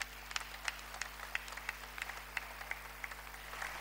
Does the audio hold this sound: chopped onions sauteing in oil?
no